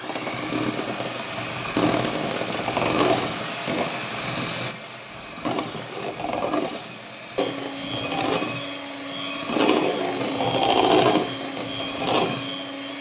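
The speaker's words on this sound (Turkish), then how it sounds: "şimdi düşük ayarda 1 dakika çırpacağım söndürmeden kek hamurumu" Electric hand mixer whisking cake batter of eggs, sugar and flour on its low setting, a steady mechanical whir with rhythmic bursts as the beaters move through the bowl, close and fairly loud, without talk.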